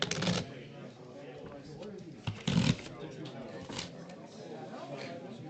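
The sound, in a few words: shuffling playing cards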